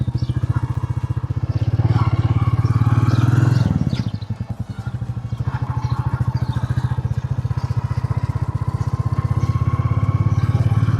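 Classic 350 motorcycle being ridden, a close, steady thumping engine note that dips briefly during a gear change, then picks back up and runs on evenly.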